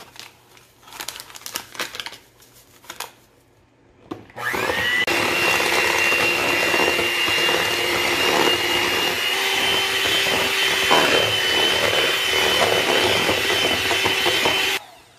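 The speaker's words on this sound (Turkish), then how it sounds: "Sütün üzerine 2 paket pudingi boşaltıp mikserde" An electric mixer whips two packets of pudding powder into milk for chocolate biscuit truffles. After a few seconds of crinkling and handling, a loud, steady motor whine starts and runs unbroken for about ten seconds.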